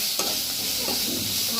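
Turmeric, chilli and cumin powder frying in a pan, a steady soft sizzle with light stirring scrapes running throughout at moderate loudness, no voices.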